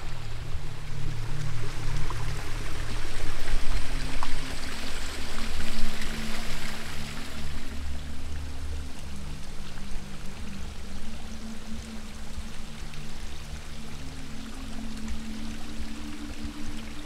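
Water rushing down the Peneus cascades in Bergpark Wilhelmshöhe, a steady broadband wash that stays loud and continuous throughout, with a low rumble underneath and no voices.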